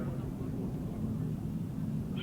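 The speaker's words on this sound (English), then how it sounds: "Revs begin to pick up." Sidecar outfits held on the start line at a 2008 British Masters qualifier grasstrack meeting, engines revving together as a low, continuous rumbling drone, steady and moderately distant with no clear individual bursts.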